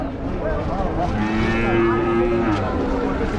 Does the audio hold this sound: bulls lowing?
yes